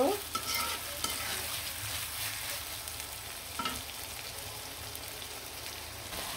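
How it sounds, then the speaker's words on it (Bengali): Chicken breast pieces frying in a pan for noodles sizzle softly while being stirred, with scraping clatters of the spatula at intervals over a low, steady hiss. "মাংসটা খুব সুন্দরভাবে ভাজা ভাজা করে নিব"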